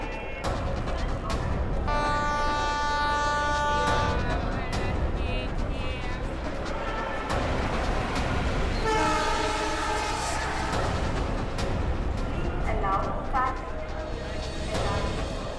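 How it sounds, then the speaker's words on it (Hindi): The Paschim Express from Mumbai to Delhi rolls into a busy railway station platform, sounding two loud horn blasts over rumbling wheels and station noise while people talk nearby. "मुंबई से दिल्ली जाने वाली पश्चिम एक्सप्रेस प्लेटफॉर्म नंबर 3 पर आएगी।"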